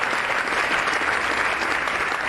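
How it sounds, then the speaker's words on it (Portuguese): A church congregation claps during an evening worship service, a dense, continuous burst of applause filling the room with no voices standing out. "Isso, vai aplaudindo e glorificando."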